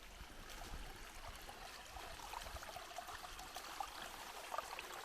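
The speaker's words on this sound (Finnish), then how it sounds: "Ja täältä me löydetään näemmä pieni puro." A small forest stream trickling beside a trail near Särkisalmi, Parikkala, a faint, steady babbling of shallow water with light gurgles, heard alone without talk.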